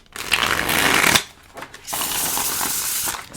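Tarot cards are shuffled close up in two long papery bursts of riffling, split by a short quiet pause with a few soft taps.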